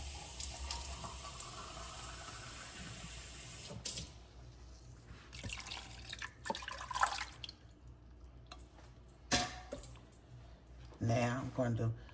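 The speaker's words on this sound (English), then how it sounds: "Then I'll put a cup of water in this" A cup of water runs into a crockpot holding a chuck roast: a steady pour for the first few seconds, then scattered splashes and drips, with a voice speaking nearby.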